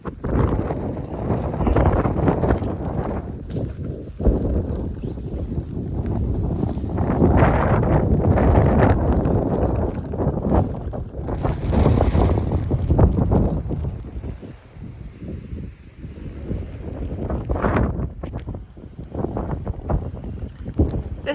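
Strong gusty wind buffets the microphone on a wet walk up the South Downs, roaring in heavy surges that rise and ease over about twenty seconds, with no talk.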